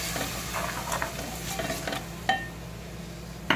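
Chopped tomatoes tipped into masala frying in a pan, giving a steady close sizzle with stirring scrapes and a couple of sharp utensil knocks against the pan, with no talking.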